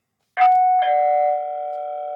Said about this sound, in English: Let's just give it a ring. Got my doorbell here.